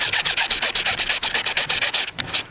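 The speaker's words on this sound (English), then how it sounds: "I'm going to now sand this boat" Sanding by hand on the surface of an inflatable boat where a glue-on transducer mount will be installed, heard alone as a steady run of close, rhythmic rasping strokes, about a dozen back-and-forth rubs without pause.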